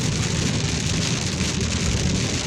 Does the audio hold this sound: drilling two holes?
no